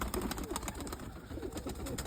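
Pigeons, with a white pigeon among them, flutter and coo close by outdoors in a few faint, scattered calls and wing sounds over a busy background.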